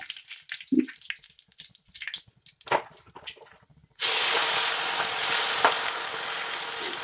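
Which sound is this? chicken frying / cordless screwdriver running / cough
chicken frying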